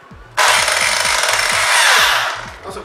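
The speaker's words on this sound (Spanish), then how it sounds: "Vamos a ocupar el taladro en el martillo y vamos a prender nuestra aspiradora y a empezar a hacer los agujeros." A hammer drill bores holes into a house wall, starting abruptly and grinding loudly and steadily for about two seconds before easing off, with rhythmic hammering pulses underneath.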